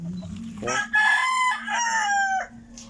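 A rooster crows loudly and close at a small backyard chicken farm, one drawn-out cock-a-doodle-doo with a steady low hum beneath it and no talk.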